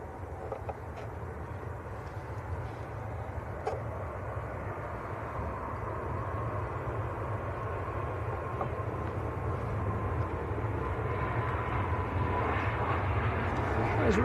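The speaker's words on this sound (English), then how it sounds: "There's Ryanair to Dublin." A Ryanair airliner bound for Dublin at Manchester Airport gives a steady, broad engine roar that grows slowly louder across the stretch.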